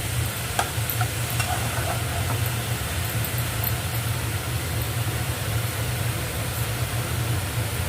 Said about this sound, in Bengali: এবার এটাকে একটু ভালো করে নাড়াচাড়া করতে হবে